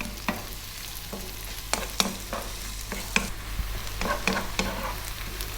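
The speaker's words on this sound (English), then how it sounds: "we're going to add a cup and a half of onion. And we're going to cook this for about 5 minutes or so" Onions cooking in a pan for a South Indian fish curry, with a low steady sizzle and frying hiss broken by sharp scrapes and taps of a spoon stirring, up close and with no talk.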